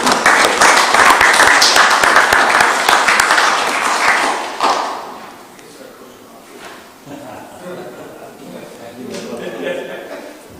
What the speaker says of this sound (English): I want a round of applause for Doug there as well